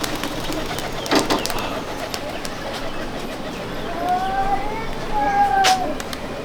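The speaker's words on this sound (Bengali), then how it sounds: "আপনাদেরকে ছেড়ে দেখাবো উড়িয়ে, একটু দেখেন কেমন কবুতর ভ্যানিশ হয়" Pigeons released from a high-flying pigeon loft in Pachgram, Murshidabad, with a few wing-flutter bursts and soft coos over a steady outdoor background, while voices murmur faintly nearby.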